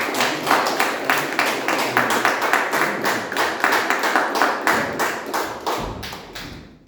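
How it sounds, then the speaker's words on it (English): A Toastmasters club audience applauds the grammarian at a meeting, a steady burst of many hands clapping close by for nearly seven seconds before fading out at the end. "let's have a big round of applause for him"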